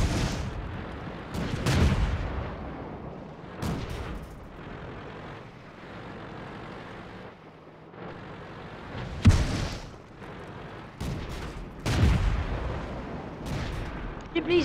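Tank cannon fire in World of Tanks, several heavy booming shots spaced apart over a steady engine rumble, with occasional talk in between.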